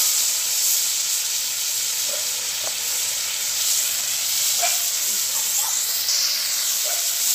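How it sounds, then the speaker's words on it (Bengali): River crabs sizzle in hot mustard oil with fried mustard seeds, a steady close hiss with scattered light pops and spoon clinks, and no talk. "এবার আমি এর মধ্যে দিয়ে দিলাম আগে থেকে বেছে রাখা কাঁকড়াগুলো"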